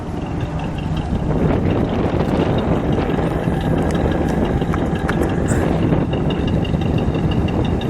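A 1957 Pontiac Star Chief convertible engine runs outdoors with a low, steady rumble. The loud, constant sound is blended with heavy wind buffeting on the microphone, and no clear rev stands out.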